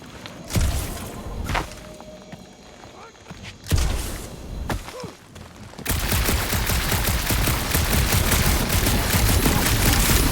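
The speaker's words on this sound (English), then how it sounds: "that aimless shooting isn't gonna scare the monsters away" Gunfire in the video game Guardians of the Galaxy on a dark monster planet: a few scattered shots and footsteps at first, then a dense, loud continuous burst of shooting through the last four seconds, with speech-like sounds in between.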